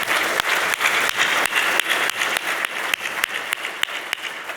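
An awards dinner audience applauds with sustained clapping, sharp individual claps standing out regularly over a continuous wash, holding a steady moderate level before easing slightly toward the end.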